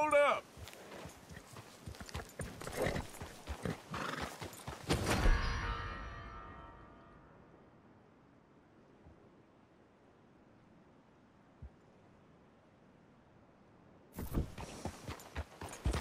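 Hooves clip-clop steadily from a horse trotting in Red Dead Redemption 2. The rhythmic steps are close and moderately loud, fade into near silence midway, then return at the end.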